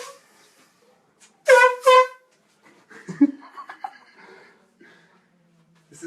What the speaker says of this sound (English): And don't blow the air horn.